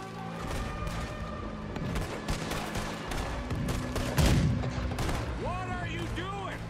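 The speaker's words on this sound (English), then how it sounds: "You made the cannon! I'll get you some more shots!" Cannon fire aimed at a boat in the video game Red Dead Redemption 2 comes as repeated booming blasts amid a chaotic mix of gunfire and crashes, with one heavier boom standing out and voices shouting nearby.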